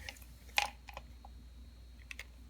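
Sparse, irregular sharp clicks from the external speaker of an Electro Neutronics CDV-700 radiological survey meter, a few close together, sounding near and crisp over a faint steady hum.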